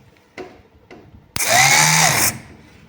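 T-MAX 6500 winch gearbox whining loudly for about a second, a steady high mechanical motor-and-gear drone with a falling pitch sweep, preceded by two short clicks and cutting off abruptly.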